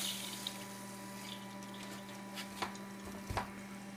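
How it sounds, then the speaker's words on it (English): Flow-Rite battery watering pump running as it fills a forklift battery, giving a steady low hum with a continuous watery rush and a few faint splashes and drips. "I'm going to go ahead and start this pump up"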